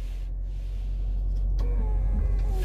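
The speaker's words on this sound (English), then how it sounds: "I'm gonna flip that power seat so you can see what that actually works like." Power seat motor in a 2019 Infiniti QX80 running as the seat flips, a steady low electric whir held for a few seconds inside the cabin, with a small click partway through and no voices.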